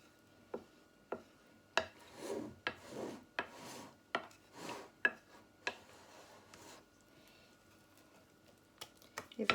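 Buckwheat sourdough starter mixed with Pyrenean lime-blossom and bramble honey is stirred in a bowl, making a series of close, soft scraping and rubbing strokes with sharp clicks of the utensil against the sides.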